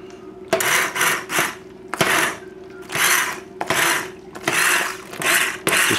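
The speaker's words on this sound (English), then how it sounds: "Let me get my burr mixer. Now this is one of the greatest tools for the home. We'll just cream it up a little bit." A handheld immersion blender purees beef chili with white beans in short repeated bursts, each whirring pulse loud and close, separated by brief pauses.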